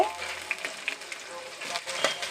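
Chopped onions, whole garlic and tomatoes sizzle in hot oil in a pan while being stirred, a soft steady frying hiss with scattered spoon scrapes and a voice talking over it.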